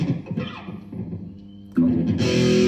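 A heavily distorted electric guitar plays chugging, palm-muted notes, then rings out louder and fuller with bright, saturated sustain.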